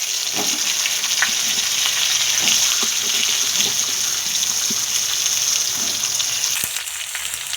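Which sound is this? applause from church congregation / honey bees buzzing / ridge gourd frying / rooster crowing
ridge gourd frying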